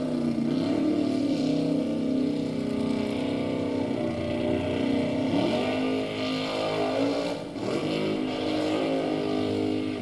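A tank vehicle's engine roars continuously in a Goat Hill race against the Tankinator, rising and falling as it revs and strains up the slope, loud and sustained throughout.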